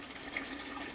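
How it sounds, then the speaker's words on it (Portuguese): Water poured into a metal can of soil, roughly three litres going in to make earth-based paint; a steady, close splashing pour runs unbroken for about a second. "E agora nós vamos colocar uma certa quantidade de água."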